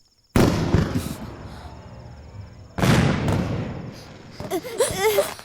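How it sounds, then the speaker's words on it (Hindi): Two loud fireworks blasts, each a sharp boom trailing into crackle and rumble, followed by fainter popping and whistling bursts. "पटाखों की आवाज सुनकर ये दोनों रोने लगते हैं।"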